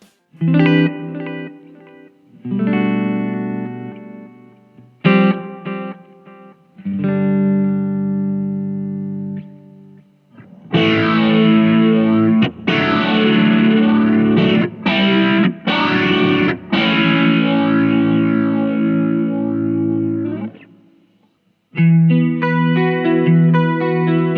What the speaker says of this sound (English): here's just a few examples of what some of the built-in effects can sound like